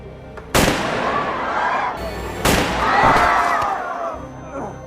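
Two sharp gunshots crack out a couple of seconds apart as police fire on a man in a film scene, each blast loud and close with a ringing tail, over a faint background of voices.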